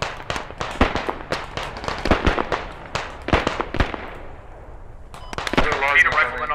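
Gunfire in the Squad video game: dense, rapid cracks and bangs from nearby and distant weapons, with irregular bursts, plus a voice talking over the later part.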